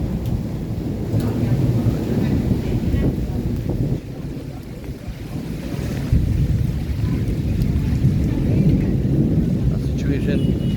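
A severe thunderstorm with heavy rain in Rajkot brings repeated deep thunder rumbles over a steady wash of rain and wind buffeting the microphone, loud and continuous apart from a brief dip midway.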